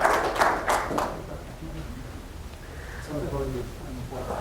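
An audience claps briefly to welcome a speaker. A burst of applause fades within about a second, and talking follows over quiet room noise.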